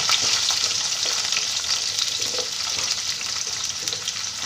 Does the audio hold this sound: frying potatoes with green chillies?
yes